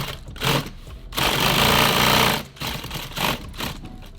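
A sewing machine hems nylon tactical gear in loud, rapid stitching bursts: a short run, a longer sustained stretch, then several quick bursts separated by brief pauses.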